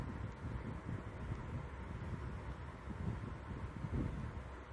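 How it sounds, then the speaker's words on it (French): Electric fan running indoors, a continuous soft rushing, wind-like noise with a low rumble that stays steady and faint throughout, with no talking. "si vous entendez un bruit de vent, c'est parce que mon ventilateur est allumé"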